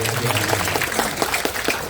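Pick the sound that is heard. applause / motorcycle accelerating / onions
applause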